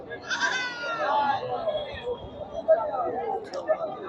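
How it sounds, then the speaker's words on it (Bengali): Black Bengal goats bleat repeatedly in wavering cries at a large goat market, with people chattering nearby in a busy outdoor setting. "ছাগলগুলো ধরে রয়েছে"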